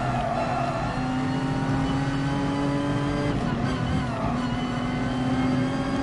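A race car engine drones and revs steadily in Gran Turismo Sport, its pitch rising and falling as it races, loud and continuous throughout without talking.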